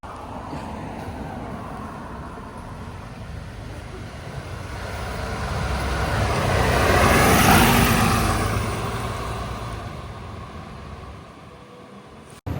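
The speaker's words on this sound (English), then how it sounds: "Let's film this bus leaving." A Mercedes Citaro bus on London route 117 pulls away, its engine and road noise swelling to a peak midway before trailing off into the steady background hum.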